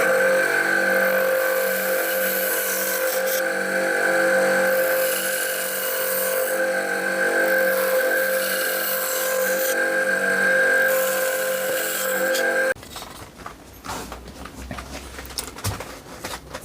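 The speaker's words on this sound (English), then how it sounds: "Now to the bandsaw again." A bandsaw cuts through wood to open up holes for chisel blades. The motor and blade give a loud, steady whine for about twelve seconds, then stop, and quieter shop clatter follows.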